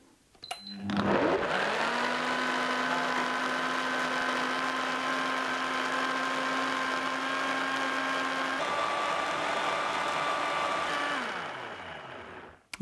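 A Biochef sous vide blender restarted on frozen contents spins up with a sharp whine, then holds a loud steady motor drone that shifts pitch partway through before winding down to a stop.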